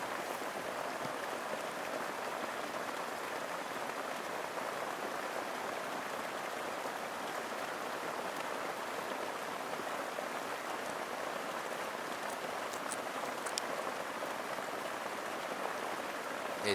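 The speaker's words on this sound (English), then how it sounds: "It's absolutely pouring down." Heavy rain pours steadily over the Malaysian jungle around a waterlogged shelter, a dense, continuous hiss that stays even and loud for the whole stretch with no voices.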